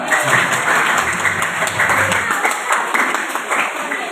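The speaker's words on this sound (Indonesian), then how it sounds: "Ya, tepuk tangan." An audience applauds at a community event, with loud, sustained clapping from many hands close by that fills the whole stretch and eases slightly toward the end.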